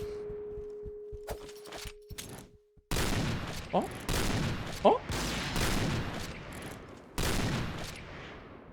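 Rapid bursts of gunfire from the online shooter game Point Blank, loud and close, with dense fusillades of shots that break off and resume, plus a few sharp single impacts and brief quieter gaps.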